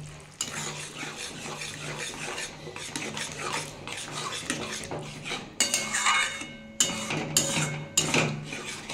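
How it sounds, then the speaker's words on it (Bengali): A spoon scrapes and stirs green jackfruit curry with yogurt in a pan, with rhythmic rasping strokes and metallic clinks close up, growing louder and sharper in the last few seconds. "এটা আমি আবার একটু কষে নেবো ভালো করে"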